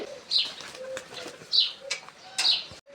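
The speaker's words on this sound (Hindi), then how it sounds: "देखो ये कबूतर छोड़ रहा है।" Wings flap repeatedly in quick bursts as several pigeons are released and take off close by, with soft cooing and chirps mixed in.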